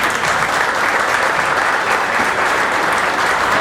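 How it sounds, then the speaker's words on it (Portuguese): Steady, dense applause from a crowd fills the whole stretch, loud and even without pause. "um casal que merece a nossa salva de palmas"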